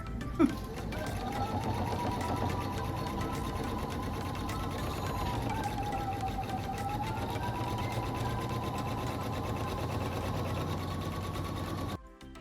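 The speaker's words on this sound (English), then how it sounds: "We've sewn a 1/2 inch seam allowance all the way around the 3 sides of the pillow." A sewing machine runs steadily for about twelve seconds, stitching a French seam on a pillowcase, with a continuous whirring hum that stops abruptly at the end.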